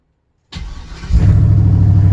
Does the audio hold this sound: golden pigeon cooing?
no